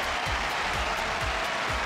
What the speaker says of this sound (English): A big round of applause for Sara Errani, who gets the break in game